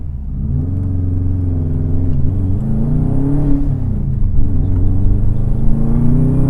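A 2004 Subaru WRX with about 260 wheel horsepower, heard from inside as the engine rumbles steadily and climbs in pitch as it accelerates. Loud and close throughout, with no speech.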